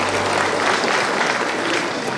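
An audience at a party year-end ceremony for appointment certificates applauds in a dense, continuous clatter of many hands. The clapping stays steady and fairly loud throughout the short burst.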